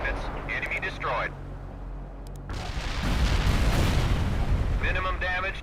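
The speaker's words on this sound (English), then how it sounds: "Artillery firing." Artillery barrage in the real-time strategy game World in Conflict, a deep rumbling roll of blasts swelling and sustaining after radio-style voices speak over a quieter battlefield bed.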